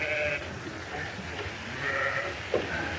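Sheep bleat several times over steady outdoor ranch noise, with calls at moderate distance standing out briefly across the short stretch.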